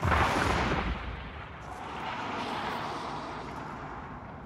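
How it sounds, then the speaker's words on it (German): Heavy gunfire in the multiplayer shooter Hunt: Showdown, a loud booming blast at the start followed by a sustained rumbling, echoing roar that stays fairly loud throughout with no talk over it. "Schießt ihr denn jetzt oder wer schießt denn da?"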